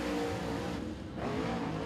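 A race car accelerates hard out of turn four at Thunderhill Raceway during Southern All Stars qualifying, a brief, loud engine roar that dips and swells again, with no talk.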